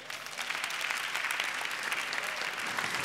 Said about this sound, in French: surtout si vous applaudissez très fort